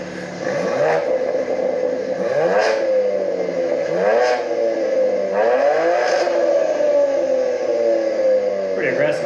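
A BMW G80 M4 with an aftermarket customer exhaust revs repeatedly, several sharp throttle blips rising and falling in a loud, raspy rhythm, recorded up close with little else around it.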